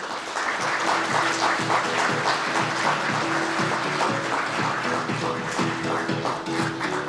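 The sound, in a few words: audience applause at a showcase event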